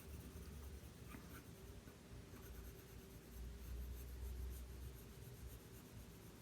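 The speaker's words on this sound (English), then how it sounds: "just going to color in the background at this point" A pencil coloring in a drawing's background on paper, a soft, continuous back-and-forth scratching close up, faint and steady with no talking.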